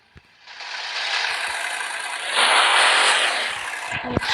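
A Bugatti is driven in a video game. A smooth, whining engine roar builds after a sharp opening click, surges louder in the middle and then eases, with a few mechanical ticks near the end.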